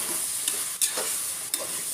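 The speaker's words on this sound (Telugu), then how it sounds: "మొత్తం ఒకసారి కలపండి." Vegetable biryani mixture stirred in a hot pan, a steady sizzle with a few scraping strokes of the spoon, close up and without speech.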